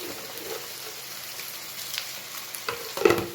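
Spices and red chillies sautéing in a pan, a close, continuous soft sizzle with light stirring scrapes that grow louder toward the end.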